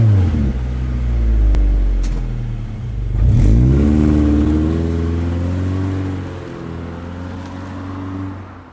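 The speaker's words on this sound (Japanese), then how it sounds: "ガナドールマフラー、" A Subaru Impreza Sport fitted with a Ganador aftermarket muffler in Gran Turismo cruises at low speed, its deep exhaust rumble swelling through a couple of rev rises and a shift, close and without speech.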